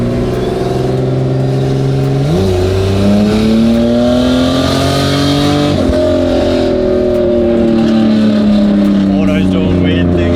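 A turbocharged Holden VL wagon revs hard, its engine note climbing with boost, then jumping in pitch as the wastegate opens, with loud engine roar throughout and voices talking over it.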